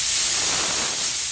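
A spray gun fed by an air compressor sprays texture in a steady, loud, unbroken hiss that holds for the whole stretch with no voices.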